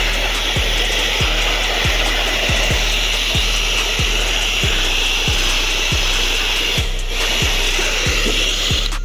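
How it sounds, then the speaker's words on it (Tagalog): A steady, loud whooshing blower dries a painted motorcycle speedometer part close by, with regular soft thumps ticking underneath it throughout. "So gagamit ako ng blower. Ayan, blower natin kasi para mas madaling patuyo."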